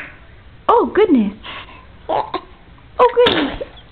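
A baby sneezes in short bursts with an adult voice cooing nearby, several close, loud bursts spread over a few seconds.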